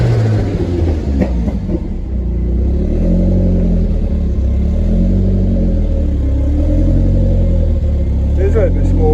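The engine of a smoky Ford Escort RS2000 with a turbo rumbles steadily and close by, with low mechanical droning and slight rises in revs throughout.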